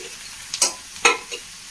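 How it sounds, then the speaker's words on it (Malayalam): Fresh curry leaves frying in a pan with white chickpeas, a soft sizzle broken by two or three quick scraping stirs, close and fairly quiet. "നന്നായി ഒന്ന് ഇളക്കി കൊടുക്കാം"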